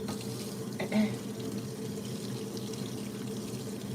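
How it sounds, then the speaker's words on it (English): Tap water runs into a sink while a hand is rinsed under it, a steady close rush of flowing water with a brief splash near the start and no talk. "I'm going to rinse my hand off"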